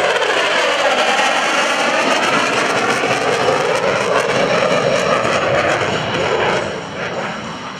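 An F/A-18C Hornet jet fighter roars past at an airshow in moist air, a loud, sustained broadband jet blast that stays steady before tapering off near the end, with no speech over it.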